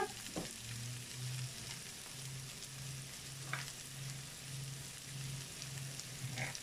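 Sliced zucchini frying in a pan as part of a vegetarian rice dish, a soft continuous sizzle with a low pulsing hum and a few faint clinks, quiet and close.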